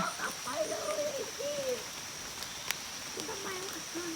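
Rain falls steadily in an outdoor riverside setting, a soft continuous hiss running through the whole stretch while a voice talks over it and a faint bird calls now and then.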